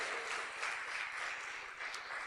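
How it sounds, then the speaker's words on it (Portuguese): Church congregation applauding at a Portuguese-language sermon, a brief, soft, steady patter of many hands with no voices heard. "Você pode aplaudir o nome do Senhor mais uma vez?"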